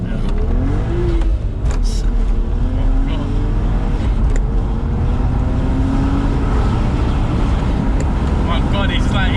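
A BMW E82 135i with full bolt-ons pulls hard through the gears, its engine roaring loud and steady with rising and falling pitch between shifts, while people talk over it inside the car.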